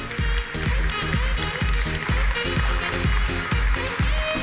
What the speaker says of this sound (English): Vous pouvez applaudir, s'il vous plaît.